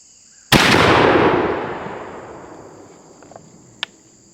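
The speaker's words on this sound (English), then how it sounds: "So let's take a shot at 40 yards and see what kind of penetration we get" A single loud, close TSS buckshot shotgun blast at 40 yards against real deer shoulders, with a long decaying rumble, then insect chirps outdoors and a small sharp click afterward.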